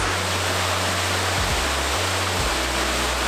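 A significant waterfall at Wagmatcook on Cape Breton Island rushes in a steady, loud broadband hiss, continuous with no breaks.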